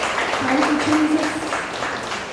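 A church congregation claps loudly during a Hindi-language worship service, a dense, steady roar of hands with a voice carrying over it throughout.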